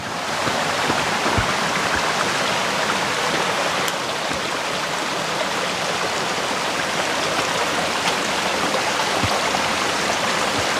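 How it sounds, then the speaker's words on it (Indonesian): Mountain river on Mount Slamet at about 1600 m elevation, rushing steadily over rocks with a dense, continuous roar close by, unbroken for the whole stretch and with no voices. "Ini adalah sungai yang ketiga guys, namanya Sukali Semurup di ketinggian 1600 mdpl."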